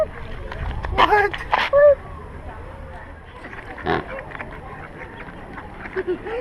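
A duck at a zoo gives a few nasal quacks, clustered early and then scattered, heard at moderate distance under people talking nearby.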